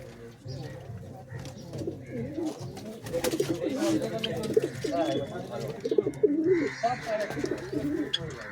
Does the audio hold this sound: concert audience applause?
no